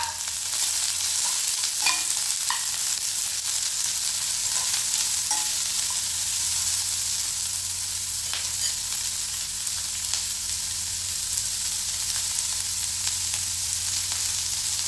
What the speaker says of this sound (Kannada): ಆನಿಯನ್ ಹಾಕ್ತಾಯಿದ್ದೀನಿ.